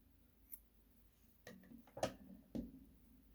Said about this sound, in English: cut my yarn